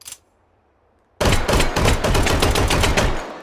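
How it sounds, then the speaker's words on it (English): Rapid, loud bursts of M1911 A1 pistol gunfire in the H3VR virtual reality game on a .45 shooting range, a dense run of close shots following about a second of near silence. "You can shoot it dual wielded, just like with any pistol in the game."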